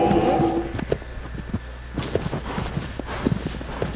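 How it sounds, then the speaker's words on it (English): Horse hooves gallop through dirt in the video game Shadow of the Colossus. The quick, steady clip-clop rhythm runs close and fairly loud for several seconds, with game ambience beneath it and no talk. "I love the sound of the hooves galloping. Galloping in the dirt."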